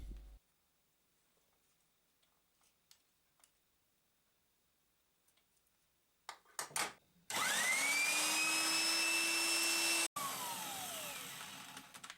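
Quiet clicks and shuffling, then a power drill whirs up loudly, enlarging the bore of a scooter-wheel pulley, running steadily with rising and falling tones, briefly stopping before continuing.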